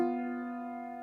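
A tritone interval rings out as one sustained, harmonically rich tone that fades slowly, with no talking.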